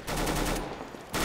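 Automatic AK rifle fire in the video game CS:GO sounds as a rapid rattling burst of shots, loud and close, breaking off briefly before resuming.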